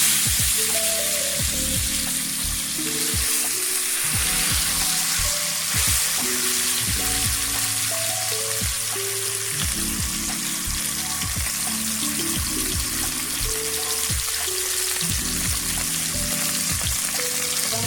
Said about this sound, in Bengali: এবার তেল গরম হয়ে এসছে, এবার আমি মাছগুলো দিয়ে দেব।